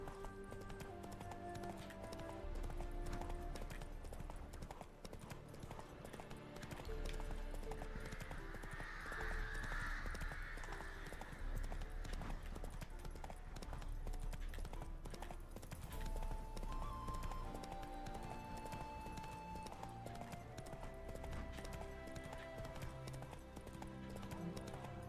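The horse Roach gallops in The Witcher 3, hooves clip-clopping in a rapid continuous rhythm under game music and ambience for the whole stretch, with a brief whinny-like rise partway through.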